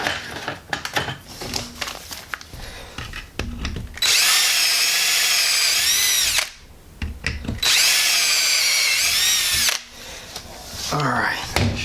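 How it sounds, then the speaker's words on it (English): A power drill with a larger bit bores a hole during a Speeduino Ocelot engine-management build for a 2RZ engine: two loud sustained whining bursts of several seconds each, with handling noises and pauses between them. "One more drill bit size up."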